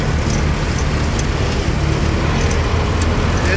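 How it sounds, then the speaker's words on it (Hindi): A farm vehicle hauling a harvester home after the soybean harvest drives along a road, its engine a steady low rumble mixed with broad road noise, continuous and fairly loud throughout. "ये हमारी गड्डी का साउंड देखिए"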